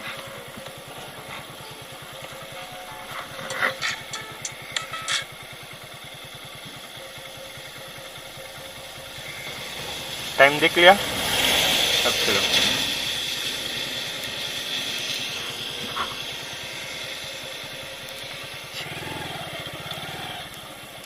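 A Hero Glamour motorcycle engine idles nearby, a steady low putter throughout, with brief clatter and a rise in noise midway; someone speaks briefly early on.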